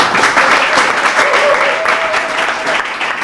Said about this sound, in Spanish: Por favor, recibamos con un cálido aplauso a Federico Massá Rodríguez.